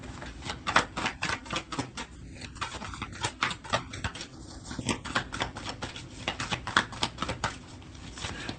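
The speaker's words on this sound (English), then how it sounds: "Let me get another card and see." Tarot cards shuffled and flicked during a love reading, a rapid run of crisp, close papery snaps and taps that keep going with an even rhythm throughout.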